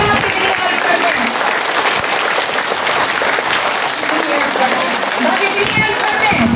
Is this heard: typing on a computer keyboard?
no